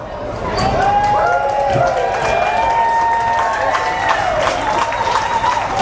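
Loud crowd cheering and shouting at a harness horse race at the Barron County Fair in Rice Lake, a steady roar of voices with whistles rising and falling throughout.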